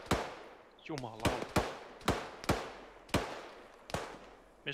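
Gunfire in the modded military shooter Arma 3 comes as sharp, loud single cracks about every half second to second, each with a short echoing tail. One burst is briefly joined by a rising whine.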